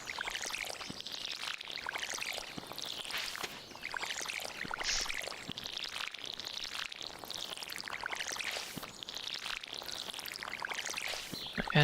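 Water pouring from a watering can in the farming game Stardew Valley, a steady splashing trickle that runs almost unbroken at moderate loudness, swelling and easing in short waves with no talk over it.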